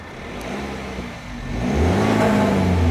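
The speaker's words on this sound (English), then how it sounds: "Get Johnson do a little rev time on the diesel." A BMW X3 28d diesel engine idles low, then revs up strongly and holds at a higher pitch, loud and close.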